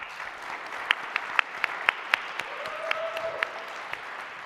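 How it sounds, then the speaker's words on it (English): Audience applause for the production team at the MIT $100K Entrepreneurship Competition launch, a hybrid event: a steady wash of clapping with a few sharp, distinct claps standing out, moderately loud and fading slightly toward the end. "Please give us a round of applause for our team."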